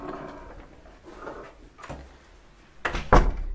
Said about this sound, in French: Ça c'est la porte d'entrée.